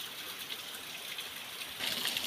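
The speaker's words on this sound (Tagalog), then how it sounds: "galing sa taas yung tubig mga idol" Spring water runs down from above over slippery rocks at a hidden swimming spot in Sitio Sabang, Santa Maria, Iriga City, giving a steady close hiss and splash that swells slightly louder near the end.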